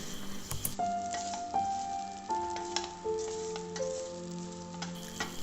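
Rangayyan snack fries in hot oil with a steady soft sizzle and occasional light bubbling pops, close and fairly quiet, with no talking.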